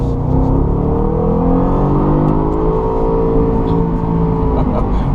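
A 2014 Jaguar XFR with its supercharged 5-liter V8 pulls hard in second gear, a loud, steady engine roar with rising harmonic tones from start to finish. A voice murmurs faintly underneath.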